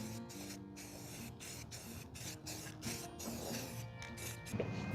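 Spray painting metal mounting plates black for a fiberglass Jeep CJ7 tub remount, a steady faint hiss from the spray can broken by short pauses, heard alone without talk.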